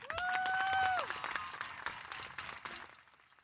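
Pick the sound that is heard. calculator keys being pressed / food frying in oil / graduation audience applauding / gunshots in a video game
graduation audience applauding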